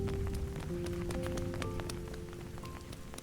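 Steady rain pattering on a surface, dense and continuous with scattered sharper drop hits, fading slightly toward the end, no voices.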